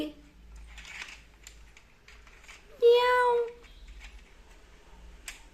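A voice imitates a cat's meow once, a short rising call, in a quiet room with faint shuffling and soft background talk.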